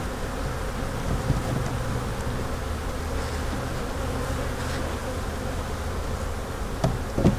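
Honey bees buzz densely around a hive box while nucs and splits are being checked, a steady close swarm drone with a couple of faint knocks near the end.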